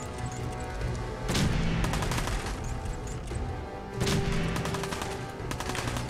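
A laser musket fires in Fallout 4: two loud, sharp shots, a few seconds apart, crack over a busy, noisy game background.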